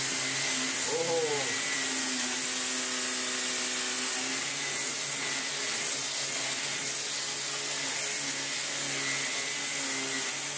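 A Vorwerk Kobold VK150 vacuum cleaner runs at full power with a loud, steady close-up roar and high whine that never lets up, while a voice briefly speaks over it near the start.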